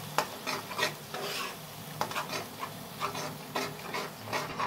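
Masala for dhaba-style matar paneer frying in oil in a pan over a high flame, with a spoon scraping and stirring it in repeated rough strokes over a steady sizzle, close and alone.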